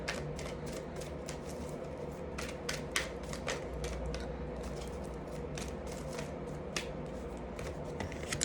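Tarot cards shuffled by hand in a steady run of soft riffling flicks and snaps, close and moderately quiet, with no talking.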